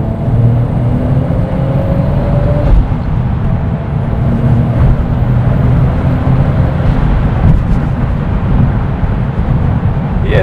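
A Lexus IS with a swapped JZ engine pulls hard on turbo boost, producing a loud, continuous engine roar that holds steady for about ten seconds with no talking.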